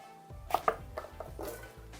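A knife chops through red chili peppers on a board in a home kitchen, several quick, uneven cuts landing close and fairly loud, with no talking.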